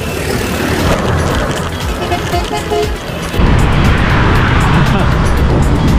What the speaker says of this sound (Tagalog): Maraming sasakyan, mga malalaki bus at saka truck.